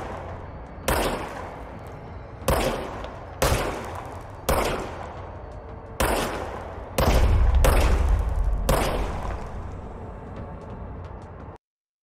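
Gunshots from a weapon in the video game Control, played via Nintendo Switch cloud streaming: about eight loud, sharp blasts spaced irregularly over roughly eight seconds, each trailing off with a ringing decay, over a steady low ambient rumble that thickens toward the end.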